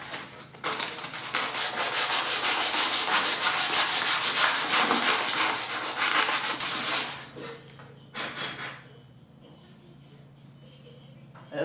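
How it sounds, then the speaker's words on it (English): Steel wool or sandpaper rubbing rust off a lawn mower part that sat outside, a loud rapid back-and-forth scraping for about seven seconds, then a few shorter strokes before it trails off. "take a piece of steel wool or some sandpaper and sand that off"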